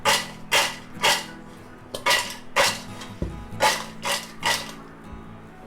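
Fried raw-banana chips are shaken with black pepper powder in a metal container, making about a dozen rhythmic, close, loud rattling swishes of crisp slices tumbling against the sides.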